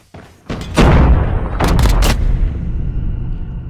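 A grenade goes off in an online shooter video game with a loud close boom that rolls into a sustained rumble, followed by more heavy blasts and thuds.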